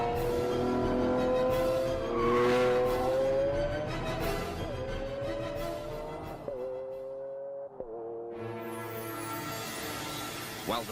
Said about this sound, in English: This 12-cylinder Symphony has a full range. From a moderate rumble through the town at low revs, to the screaming crescendo of maxed-out gear shifts.